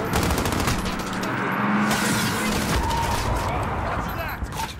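Rapid bursts of automatic gunfire in Call of Duty Modern Warfare crackle continuously, loud and close, with sharp repeated shots layered over a dense battle din and shouted voices mixed underneath.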